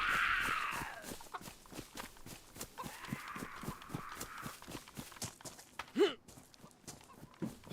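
Horse hooves clop steadily at a walking pace in the survival video game DayZ, a regular rhythm of moderately close hits with some wind-like noise in the background.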